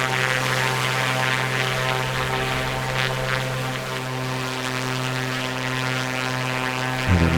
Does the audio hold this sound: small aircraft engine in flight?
yes